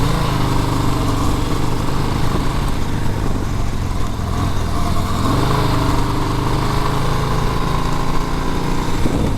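A 2020 Harley-Davidson Sport Glide motorcycle engine running with a steady, loud, close rumble and throb, holding an even idle-like drone without pause.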